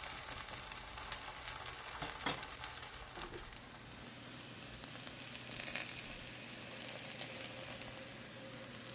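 A potato and chive pancake sizzles steadily in an oil-filled pan after being flipped, a continuous close crackle with brief stirring or scraping touches early on and no speech.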